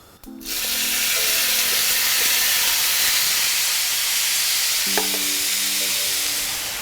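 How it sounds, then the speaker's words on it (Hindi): Vegetables for a mixed veg besan cheela filling hitting hot oil in a pan, a loud sudden sizzle that keeps hissing steadily throughout, with brief stirring clinks. "फिलिंग के लिए सब्ज़ी लेनी है और एकदम गरम गरम पैन पे डालनी है"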